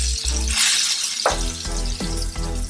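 Ground chicken sizzles and fries in a cast iron skillet, a bright crackling hiss broken by a few knocks and scrapes of a utensil against the pan, close and fairly loud.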